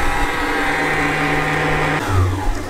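A sewing machine winds a bobbin at high speed, giving a steady, close mechanical whir that drops in pitch and shifts abruptly near the end.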